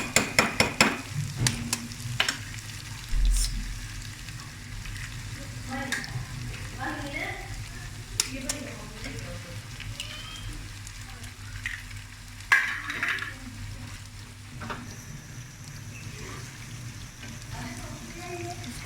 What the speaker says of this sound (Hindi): आलू अंडे जो है फ्राई हो चुके हैं।